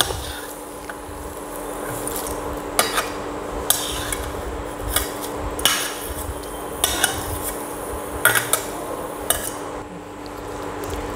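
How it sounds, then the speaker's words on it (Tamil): Dried anchovies (nethili karuvadu) roast crisp in a pan, making a constant dry rustling hiss broken by repeated sharp scrapes and clinks of a spatula against the metal. The strokes come at a loose, steady rhythm, close up, with no voices. "இப்போ பாருங்கள், இது சவுண்டே கேட்கும், ஒரு மாதிரி நல்லா மொறுமொறுன்னு வெந்தது"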